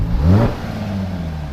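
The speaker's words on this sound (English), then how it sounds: "Let's rev it up a little bit." A supercharged 2016 Jaguar F-Type engine revs up sharply in a single loud rise close by, then settles back to a smooth, rumbling idle.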